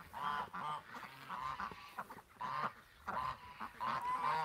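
Ducks honk and quack in a pen at night, a run of repeated calls in uneven bursts, fairly close but not loud.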